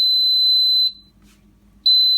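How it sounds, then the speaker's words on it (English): An air fryer timer lets out two long, steady electronic beeps, each holding about a second, with a short quiet gap between them in a kitchen. "All right, so it's beeping"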